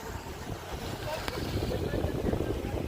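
Cold wind blows steadily across the third floor of a building in the Guntupalem area, a continuous breathy rush with microphone buffeting and no voices.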